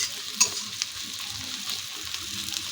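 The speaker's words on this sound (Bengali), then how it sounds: "পেঁয়াজ দিয়ে দেওয়া হলো, পেঁয়াজগুলো ভাজা হচ্ছে।" Onions and green chillies frying in oil in a pan for a Bengali fish curry, a steady close sizzle with a few sharp spatter pops and soft stirring scrapes, no voices.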